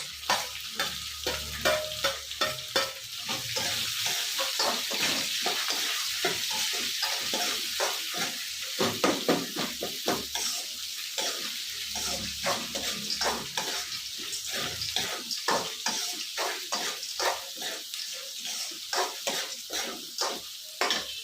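Onion frying in hot oil in a pan for Shivamogga-style lemon rice, a steady crackling sizzle with frequent stirring scrapes and clicks throughout, close and alone without voices.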